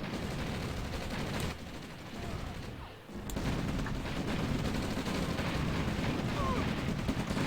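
Tanks fire on ore miners in a real-time strategy game, with dense, continuous rolling gunfire and explosions that dip briefly before resuming at steady loudness.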